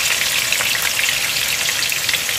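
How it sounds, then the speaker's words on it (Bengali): Chopped onions hitting hot oil in a pan, a loud, steady, hissing sizzle that holds evenly throughout with a crackling, rain-like texture. "তেলটা গরম হয়ে গেছে, দিয়ে দিচ্ছি পেঁয়াজ কুচি"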